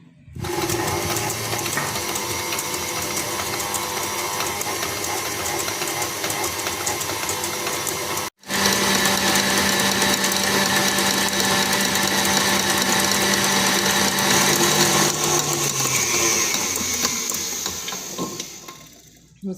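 A stand mixer whips egg yolks with sugar for a Christmas log sponge cake, giving a loud, steady motor whir with a brief cutout near the middle before it resumes and then winds down.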